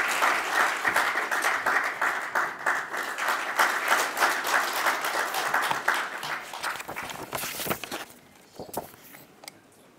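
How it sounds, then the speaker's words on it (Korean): Audience applause at a parliamentary policy debate on a social value bill, steady dense clapping from a large indoor crowd that sustains loudly for about eight seconds before thinning to a few scattered claps. "큰 박수로 맞이해 주십시오."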